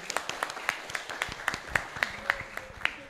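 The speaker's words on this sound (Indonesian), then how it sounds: "Oke, tepuk tangan teman-teman." Audience clapping at an entrepreneurship workshop for vocational school students in Surakarta, a steady patter of many hands at moderate distance that holds evenly through the clip with no voices over it.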